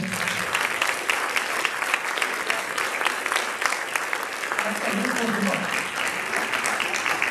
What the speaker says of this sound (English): another round of applause for her